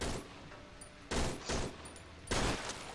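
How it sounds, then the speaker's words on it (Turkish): Gunfire rings out in the horror video game Cry of Fear, three loud, close bursts of rapid shots spaced across a few seconds. "Sıkın oğlum sıkın."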